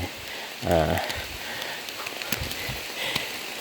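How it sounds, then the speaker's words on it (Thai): Rain falling outdoors at a practice temple, a steady hiss of drops with scattered sharper patters, plus a brief harmonic voice-like sound near the start. "มีฝนตกนะครับ"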